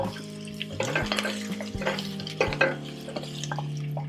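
Beets go into a pot of onions frying over medium-high heat, making a short run of clattering stirs and soft sizzling, close and moderately quiet, with a low steady hum underneath.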